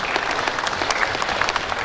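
A crowd applauds with brisk, steady clapping throughout, fairly close and loud.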